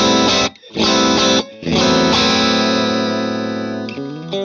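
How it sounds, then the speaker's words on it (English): Electric guitar chimes through a Vox AC30 amplifier with Celestion speakers, playing loud strummed chords with brief gaps, then a long sustained ring. "here's the AC30"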